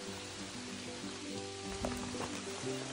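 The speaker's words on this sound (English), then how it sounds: "And of course, it's raining again." Steady patter of rain falling on a surface, a continuous hiss with scattered drops, close by and without talking, on the Appalachian Trail near Killington Peak.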